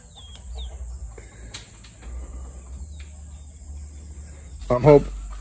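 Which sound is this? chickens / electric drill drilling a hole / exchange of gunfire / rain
chickens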